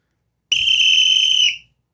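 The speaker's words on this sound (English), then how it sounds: "Can I blow my last whistle?" A single loud, shrill whistle blast held steady for about a second, then cut off, with nothing else around it.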